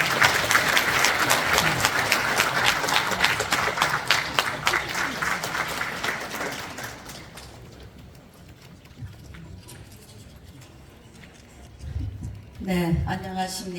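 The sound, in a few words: applause welcoming a speaker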